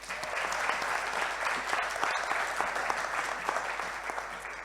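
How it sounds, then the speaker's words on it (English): An audience at an awards ceremony applauds steadily, a dense wash of many hands clapping close and loud throughout with no voices on top. "so big applause."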